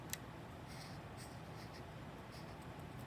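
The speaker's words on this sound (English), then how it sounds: "Let's write that first." Handwriting during a phonics lesson: faint, steady scratching of a pen or marker on paper, with a few brief ticks and strokes, low and close over a quiet room hum.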